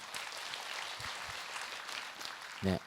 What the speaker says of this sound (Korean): 박수 좀 해주세요